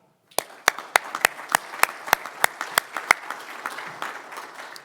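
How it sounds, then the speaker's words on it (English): Scattered applause at a fall conference of the sheriffs' association, honoring Sheriff David Dowdy: a small group clapping in sharp, separate claps, thinning out after about four seconds. "let's give him a round of applause, Sheriff David Dowdy."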